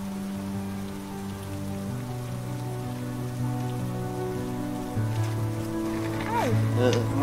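Steady rain falls and patters on surfaces throughout, a soft even hiss beneath sustained background music.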